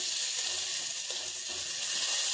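Ground coriander-garlic paste frying in half a ladle of hot oil as it is stirred, giving a steady, close hissing sizzle with no talking.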